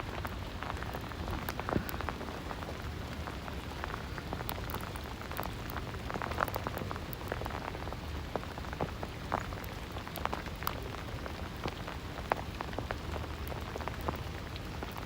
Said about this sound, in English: I'm literally trying to catch the sleet as it falls.